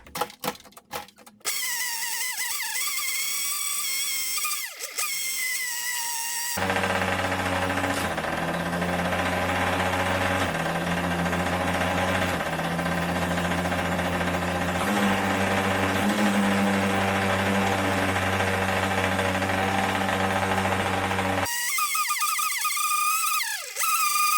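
A Big Wheel 80 motorbike engine fires up and runs steadily at close range, giving a loud, continuous buzzing drone with a rising and falling throttle note for about fifteen seconds, then cuts off.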